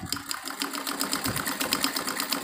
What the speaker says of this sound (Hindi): ये हम डबल कर देंगे सिलाई को।